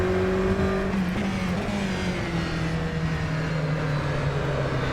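An Aston Martin Vantage GTE race car laps Estoril in rFactor 2, its engine note loud and continuous from the cockpit, steadily dropping in pitch as it comes off the throttle, with no voices over it.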